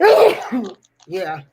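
A single sharp sneeze bursts out up close, followed by a short pause and then a bit of talking.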